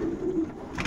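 A pigeon in a racing-pigeon loft gives a short, close, soft coo, alone and without talk.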